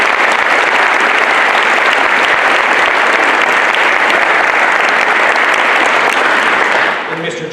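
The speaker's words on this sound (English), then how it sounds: "I'd like to give him a nice round of applause" A school Veterans Day ceremony audience claps in a loud, dense, sustained round of applause that holds steady for several seconds before tapering off at the end.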